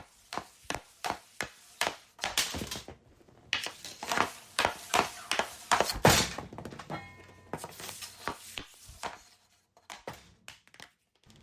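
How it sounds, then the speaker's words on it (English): Hockey stick handling and shooting pucks during a warm-up, heard as a series of sharp close thunks and taps, some rapid and some spaced out, with a few louder whacks. "begin warming up by stick handling and shooting some pucks"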